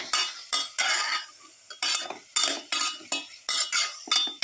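A spoon scrapes and clinks against a pot while beef stew with pepper and garlic is stirred, a rhythmic series of close, sharp metallic strokes about twice a second with short pauses.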